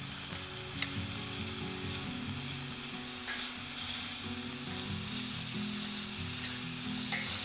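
Alligator meat coated with coconut sugar sizzles in a hot pan, a constant bright frying hiss with a low hum beneath, close and steady throughout with no talking.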